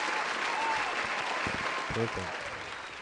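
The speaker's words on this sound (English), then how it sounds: "Where's the applause?" Canned applause from a talk radio show on KCAA, a broadband clapping wash running steadily under a man's brief spoken word near the end.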